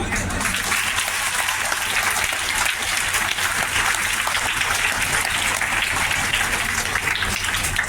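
Audience applause at a religious gathering with Shankaracharya Swami Avimukteshwaranand Saraswati in Nawada, steady crowd clapping from many hands continuing throughout, with a low hum underneath.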